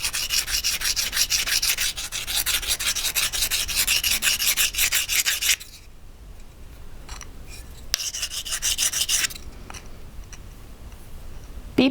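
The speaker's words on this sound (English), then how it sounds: "Be patient with this process of filing and sanding" A soldered metal bangle bracelet is filed and sanded with steady back-and-forth rasping strokes in a fast, even rhythm, a pause, then another burst of strokes, close and moderately loud with no voices.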